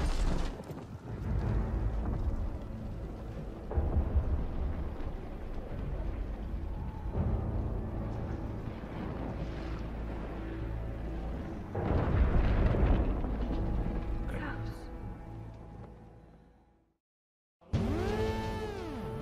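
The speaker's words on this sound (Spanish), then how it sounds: "finalmente, el Panzer Morder, Klaus y Richter mueren en una enorme explosión" A huge explosion in Call of Duty WWII Zombies lets out a long, heavy roaring rumble with repeated blasts. It fades to silence and is followed by a sharp ringing game effect.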